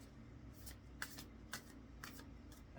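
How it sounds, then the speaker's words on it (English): Oracle cards shuffled by hand in a deck, a few crisp riffling bursts spaced about half a second apart over a steady low background, close and fairly quiet. "I'm just shuffling"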